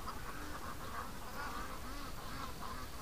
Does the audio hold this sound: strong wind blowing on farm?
no